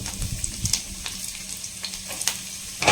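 A handful of onions sizzles steadily in hot oil for Tamil Nadu style mutton chukka, with a constant close frying hiss and small stirring pops throughout.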